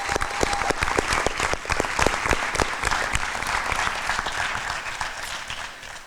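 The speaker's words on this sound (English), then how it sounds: "Let's give them a round of applause" Audience applause at a police new-hire swearing-in ceremony, sharp close claps standing out at first before settling into a steady, full round that fades slightly toward the end.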